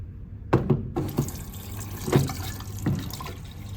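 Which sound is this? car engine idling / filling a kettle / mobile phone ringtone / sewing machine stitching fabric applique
filling a kettle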